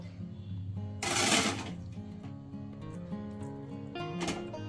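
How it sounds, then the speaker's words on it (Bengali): A mixer grinder purees spinach in its jar, a close, buzzing motor whine whose pitch steps up and down in short pulses, with a couple of harsher bursts. "মিক্সিং জারে দিয়ে পালং শাকটাকে"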